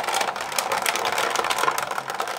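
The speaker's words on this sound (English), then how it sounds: "Sandwich that between two cutting pads and place it on tab 1 and then crank it through the big shot." Big Shot die-cutting machine cranked by hand to emboss cardstock between cutting pads, a continuous grinding, rattling roll with irregular clicks heard up close.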